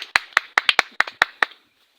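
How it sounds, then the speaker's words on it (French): A few people clap for a child outdoors, about eight sharp, close hand claps in a quick uneven rhythm, then silence. "On applaudit pour lui. Applaudissez."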